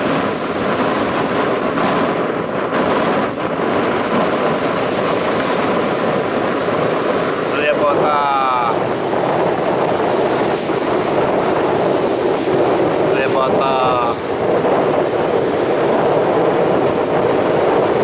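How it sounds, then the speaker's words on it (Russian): Stormy surf crashes onto the seashore at Lyubimovka, a steady loud roar of breaking waves and wind buffeting the microphone, with faint chirps of birds or squeaks at a couple of moments. "Я люблю Любимовку, даже в шторм."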